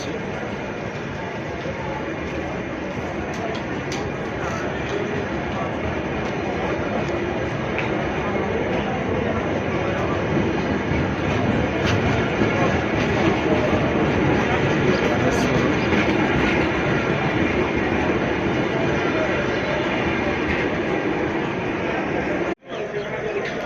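A passenger train runs past on a railway station platform in Odisha, India, bound for Howrah, giving a steady, loud rumble that holds for most of the clip and then drops away abruptly near the end; no talk is heard over it.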